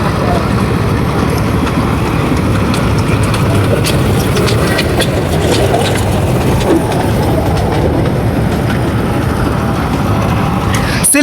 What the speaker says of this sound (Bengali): এই মুহূর্তে আমাদের সামনে একটা ট্রেন চলছে